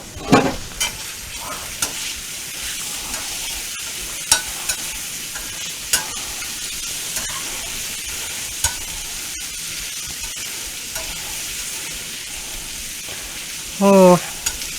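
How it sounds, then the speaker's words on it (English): Andouille sausage sizzles and fries in a pan for Cajun grits, a constant crackling hiss punctuated by regular sharp scrapes and taps of stirring, with a brief clatter near the end and no talk. "hear that sizzle, huh?"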